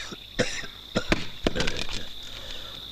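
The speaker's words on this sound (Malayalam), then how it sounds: "ആദ്യം ഈ ചുമയൊന്ന് മാറട്ടെ" A few sharp, raspy coughs in quick succession, close by, followed by quieter breathing and faint background noise.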